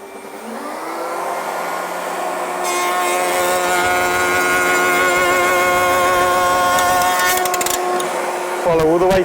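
A router fitted with Axcaliber stile and rail cutters spins up with a dust extractor running, building into a loud steady whine and hum, then a rougher burst as wood is cut near the end; a voice speaks over it.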